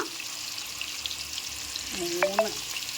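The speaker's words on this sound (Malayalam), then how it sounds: "ലെഗ് പീസൊക്കെ വെച്ചിട്ടുണ്ടായിരുന്നു, അതങ്ങോട്ട് വറുത്തെടുക്കണം നമുക്ക്" Chicken leg pieces frying in oil for a home-style curry give a steady low sizzle and crackle throughout, with a brief louder clatter near the end, as if the pan is stirred or jostled.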